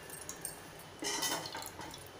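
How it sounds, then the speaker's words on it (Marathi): Oil is poured into a cooking pot for Maharashtrian masale bhaat, a brief, soft liquid splash and trickle starting about a second in and lasting just over a second. "आता आपण तेल घालूया भांड्यात"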